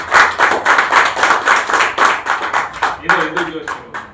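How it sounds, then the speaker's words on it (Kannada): An audience claps together in a steady rhythmic beat at close range, and the volume holds. Near the end the clapping thins out and a voice talks over its tail. "ಎಲ್ಲರೂ ಚಪ್ಪಾಳೆ ಹೊಡಿತೀವಿ"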